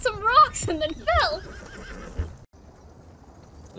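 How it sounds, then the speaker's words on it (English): A horse in the online western game Red Dead Online neighs loudly in rising and falling whinnies over the first couple of seconds, with hoof clatter and people talking underneath, then quieter background. "My horse, like, slid around on some rocks and then fell!"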